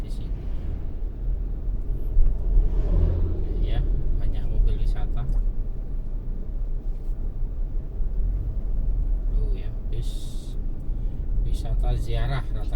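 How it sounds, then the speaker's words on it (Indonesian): Tourist cars and buses passing along a road through Panceng forest, a continuous low road rumble with vehicles going by, under faint brief background sounds. "Ya, banyak mobil wisata."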